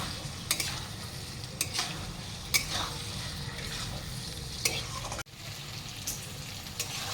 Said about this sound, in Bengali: এটা এবার ভালো করে মশলার সঙ্গে কষিয়ে নেব।